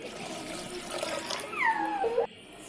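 Water poured from a tumbler into a cooking pan of sautéed tomato for semiya upma, a short close gush and splash that rises in pitch as the pan fills and then stops abruptly.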